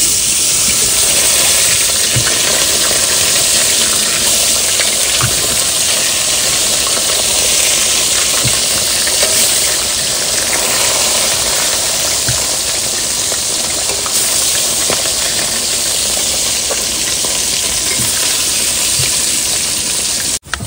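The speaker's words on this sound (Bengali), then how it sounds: "তেল গরম হয়ে গেছে, এবার মাছগুলো ভেজে নেবো।" Fish frying in hot oil gives a loud, continuous hissing sizzle that stays even throughout, with faint crackles and no speech.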